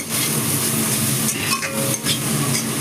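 Grated ginger fries over a low flame in a pan while being stirred, giving a steady sizzle broken by brief spoon scrapes and light clinks against the pan.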